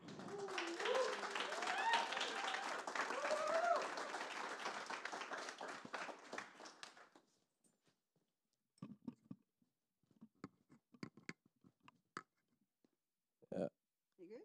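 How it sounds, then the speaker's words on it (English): An audience gives a warm round of applause, loud and dense for about seven seconds before cutting off abruptly, followed by sparse quiet knocks and a few isolated claps. "can I please have a warm applause"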